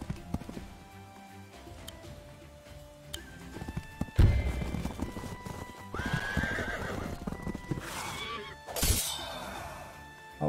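Horse whinnies and clip-clopping hooves from the Wargroove strategy video game on Switch, with battle effects and crashes breaking out midway amid a busy game soundtrack.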